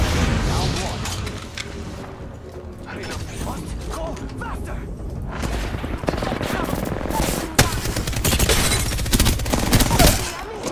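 Devotion light machine gun fitted with a turbocharger firing in Apex Legends, long sustained rapid automatic bursts mixed with game effects and a loud impact.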